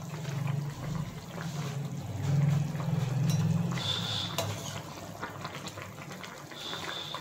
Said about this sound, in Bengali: এবার এটা ফুটতে শুরু করেছে